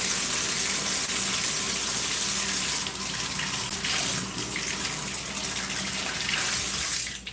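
Tap water gushes steadily into a bottle during a wash-and-go hair reset, a continuous close, fairly loud rushing stream that dips slightly partway through and cuts off at the end.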